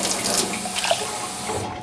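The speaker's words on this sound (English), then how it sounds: "we're going to add a cup of water" Water poured from a tap into a pan of lentils for soup, a steady splashing stream running continuously for a couple of seconds at close range.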